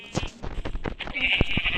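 Sheep bleat in a dinosaur survival video game: a few nasal bleats stand out over clattering game sounds and a steady high tone, while someone speaks Turkish over them.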